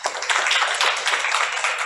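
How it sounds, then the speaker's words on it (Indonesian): An audience applauds at an Indonesian political talk show, a dense, steady clapping that stays loud and even throughout. "Kita beri aplaus ya."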